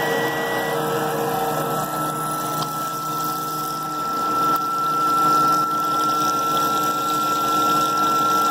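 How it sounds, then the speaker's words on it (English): A simple borrowed 12 volt liquid pump runs steadily, moving liquid at about 15 gallons a minute, its broadband whir and splashing flow holding constant throughout with a faint high whine and no voices. "I borrowed this pump off a guy. Simple 12 volt pump. Works pretty good."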